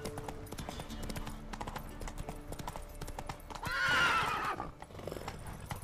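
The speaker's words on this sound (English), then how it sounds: "This time do not stay on the horse when I'm asking you to get off the horse" A horse in the video game The Witcher 3 clops along in a steady hoof rhythm, then lets out a loud neigh near the end, with a voice speaking briefly over the game sounds.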